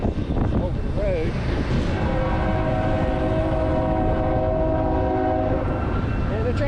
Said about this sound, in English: And the train's coming. So we're going to watch the train go by.